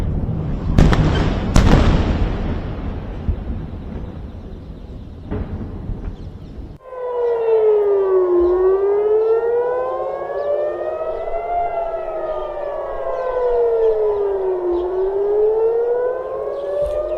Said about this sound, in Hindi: सेंट्रल और दक्षिणी इजरायल में सायरन बजे हैं।